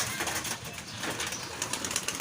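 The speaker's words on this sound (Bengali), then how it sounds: "এই যে কবুতরগুলো ফ্লাই করতেছে দেখছেন" Giribaz pigeons fluttering and cooing softly close by as they fly, with busy rustling wingbeats and low murmuring calls throughout.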